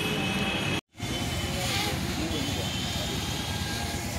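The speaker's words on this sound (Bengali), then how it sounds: "এখন ড্রোনের শ্যুট চলছে আমাদের" A camera drone flies overhead with a continuous whirring drone, steady and fairly loud, broken by a short moment of silence near the start.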